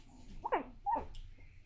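A sleeping pug puppy gives two soft, muffled bark-like woofs in quick succession, close and quiet in a calm room.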